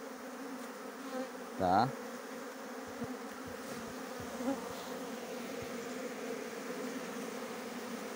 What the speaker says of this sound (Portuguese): Dá pra vocês verem que é muita abelha.